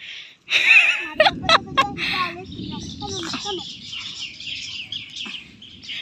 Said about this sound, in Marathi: बघा चिमण्या पण उडायला लागल्यात घाबरून.